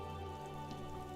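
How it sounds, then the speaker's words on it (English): Steady rain falling in the detective game Disco Elysium Final Cut, a soft continuous wash of drops on surfaces, fairly quiet and even throughout with no voices. "It's raining again."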